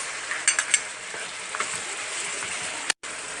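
Chopped ginger, salt and spices stirred into chicken frying in a pan, giving a steady soft sizzle with a few light scraping clicks from the spoon near the start and one brief dropout late on.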